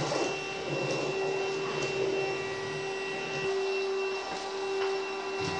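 A Hoover Rhapsody RA22HCG cordless upright vacuum cleaner runs nearby with a steady, moderately loud motor whine over a soft airy whoosh, alone with no voices.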